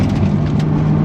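Steady low road rumble from a Porsche 992 Turbo S rolling over a bumpy, gritty surface, a continuous drone with faint tyre texture and small irregular thumps, loud and close throughout.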